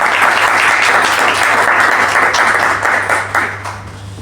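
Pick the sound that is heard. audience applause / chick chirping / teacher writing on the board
audience applause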